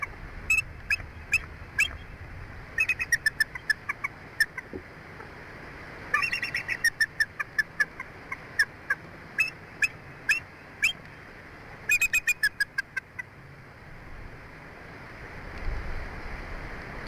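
Repeated bursts of bright bird chirps and short song phrases, apparently from a bird singing near an egg, come in clusters with quiet gaps between them over a low steady background hum.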